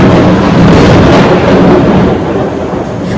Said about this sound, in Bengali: প্রচন্ড জোরে বাজ পড়ছে।